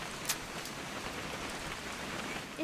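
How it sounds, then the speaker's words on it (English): Steady, even hiss of rain falling in the video game What Remains of Edith Finch, with a few brighter droplet ticks standing out against the continuous wash. "It's gonna rain the whole weekend, isn't it?"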